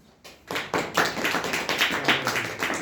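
A small group clapping their hands, a run of quick, fairly even claps starting after a brief pause and continuing steadily, moderately close, with no talking.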